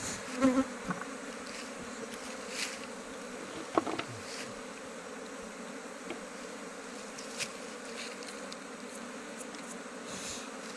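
Honey bees buzz steadily in a dense, continuous drone during a hive honey harvest with smoke being puffed, the swarm close and loud with a few brief knocks and no talking.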